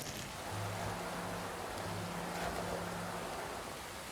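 Steady soft rain falls in the video game Inmost, a faint, continuous hiss with a low hum underneath, no voices.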